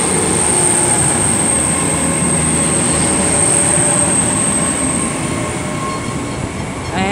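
Train 800304, running as the 1B35 service, departs Swindon station in Wiltshire with a loud, steady rolling rumble, a high whine and wheel squeal, easing off slightly toward the end.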